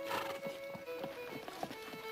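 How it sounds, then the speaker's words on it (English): Horse hooves clip-clop at a walking pace, a string of soft, fairly faint thuds with a brief whinny over a quiet background. "What you need is a horse."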